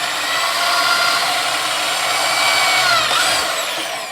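A power drill boring a hole while fitting an SKS underfolder stock, loud and steady for the whole stretch with a slight pitch change near the end, no talking.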